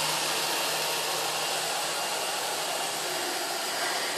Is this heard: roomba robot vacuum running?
yes